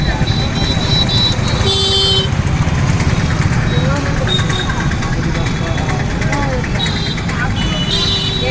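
Vehicle horns toot in short bursts over a dense, constant rumble of engines in busy night traffic on a street in Jagannath Puri.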